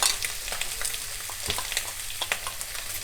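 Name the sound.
pork oil sizzling in a frying pan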